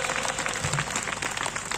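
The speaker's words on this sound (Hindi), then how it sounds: "जोरदार ताली बजाते हुए।" Loud applause from a church congregation, dense clapping that fills the whole short moment without a break.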